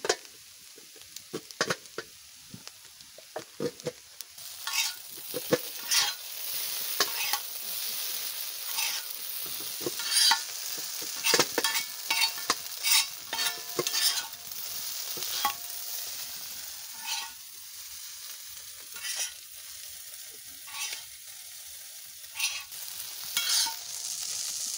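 Chowmein noodles fried with Maggi masala and mixed spice, stirred continuously in a hot pan: a constant close sizzle broken by rapid scraping and clattering strokes of the spatula, with no talking.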